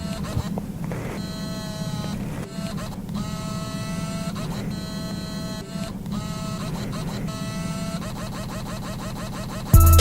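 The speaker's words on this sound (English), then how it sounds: "It had the ability to produce sounds whenever it zoomed in and zoomed out, very loud and very obnoxiously" A Vivitar camera's zoom motor whirs loudly as it zooms in and out, repeated buzzing motor runs with short pauses between them, ending in a faster stuttering series of whines.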